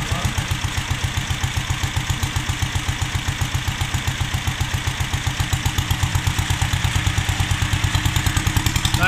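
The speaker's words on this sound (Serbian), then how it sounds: "To je Acme motor, 14 konja." An Acme 14 hp diesel engine on a Bedogni Olympia mower runs close by in winter, a loud, steady, rapid knocking chug at idle that stays even throughout, with no talking.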